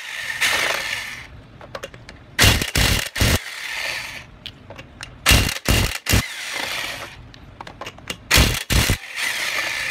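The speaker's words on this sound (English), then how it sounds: "we're going to use this Chicago electric impact wrench to remove the tires" A Chicago Electric impact wrench with a 21 mm socket removes the wheel from a Nissan Altima, firing in three loud, close bursts of two or three rapid hammering rattles each, with quieter clanking and scraping in between.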